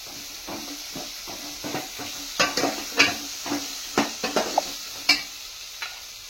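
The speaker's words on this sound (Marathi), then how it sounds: "त्यामध्ये आपण जे कांदा खोबऱ्याचं वाटण वाटतो ते सुद्धा टाकलं आणि ते सुद्धा चांगल्या प्रकारे मिक्स करून घेतलं" Onion-coconut masala is stirred into taro leaf curry in a pot, giving soft scraping strokes and irregular clinks of a spoon against the vessel over a faint sizzle, close and fairly quiet.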